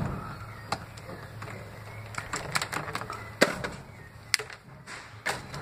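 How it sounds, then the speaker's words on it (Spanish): Electrical cable feeding a subpanel being cut, a quiet, close scene of scattered sharp clicks and snips that come irregularly, some louder than others, over a low steady hum and with no speech. "Vamos a cortar el que es el cable que alimenta ese tablero."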